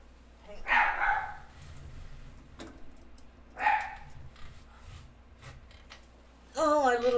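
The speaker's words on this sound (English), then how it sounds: "my little puppy just always wants to bark" A seven-month-old puppy barks indoors in a few separate short yaps spaced seconds apart, fairly close, against a quiet room.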